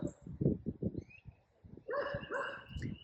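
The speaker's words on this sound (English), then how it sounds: "She sees some fisher people walking down the road, so she's barking." A dog barks repeatedly at a moderate distance, a rapid string of barks followed by higher whining yips, with faint birdsong in the background.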